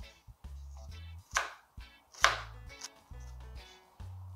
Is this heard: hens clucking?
no